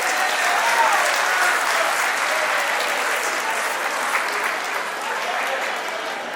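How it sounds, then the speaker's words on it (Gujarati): An audience at a donor recognition event breaks into sustained, dense applause that carries steadily at high volume for several seconds. "જેટલો તમારો તાળીઓનો મોટો અવાજ હશે એટલું ખબર પડશે."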